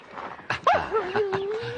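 Dog whimpers in a short, high, wavering whine that trails off, close by, after a few brief rustling noises.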